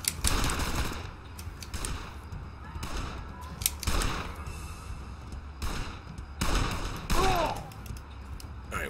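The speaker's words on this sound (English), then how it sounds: "Got the guy with a machine gun there." Machine gun fire in the cover-shooter video game Blues and Bullets comes in loud, repeated bursts of rapid shots, separated by short gaps, with no talking over it.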